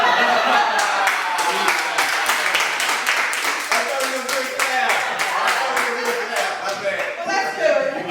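A small studio audience claps in a quick, irregular run of sharp individual claps lasting several seconds, with light chuckles and talk mixed in.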